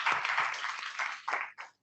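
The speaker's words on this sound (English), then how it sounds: "Y'all give John a round of applause back there." An audience at a conference session applauds, a dense, close wash of clapping that holds steady for over a second before breaking up into a few scattered claps.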